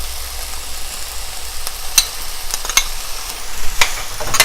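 Potatoes go into a frying pan with cauliflower for Indian aloo gobi and are stirred, giving a steady low sizzle broken by several sharp scraping and clinking stir strokes.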